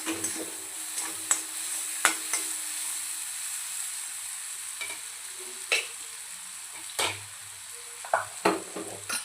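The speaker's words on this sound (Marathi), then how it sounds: "आपण त्याला तेलामध्ये परतून घेऊया आता" Garlic, cumin and coriander paste sautés in hot oil for a Maharashtrian chana dal zunka, giving a steady close sizzle with scattered scrapes and clicks from stirring, and no talking.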